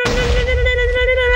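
A direct-hit fireball explodes in Minecraft's Hypixel Arena Brawl, a loud, sustained blast with a ringing tonal edge that fills the short moment.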